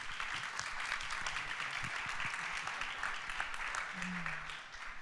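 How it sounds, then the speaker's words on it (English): Audience members at a climate event applaud a panel, a steady wash of moderate clapping from a mid-sized crowd with a brief murmur of voices, easing off at the end. "So please just round of applause for our brilliant panel."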